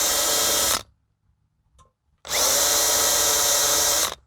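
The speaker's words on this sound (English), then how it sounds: "so I'll angle the drill bit" A power drill bores a hole in two bursts, a loud high whine running nearly a second, a pause with a faint click, then a longer second burst of about two seconds, close up and alone.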